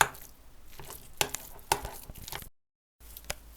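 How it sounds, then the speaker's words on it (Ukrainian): A pumpkin-shaped salad appetizer is mixed thoroughly in a bowl, giving soft squelching stirs and sharp utensil clicks in irregular bursts, close and fairly quiet, with a brief silent gap near the end. "Зараз ретельно вимішаю."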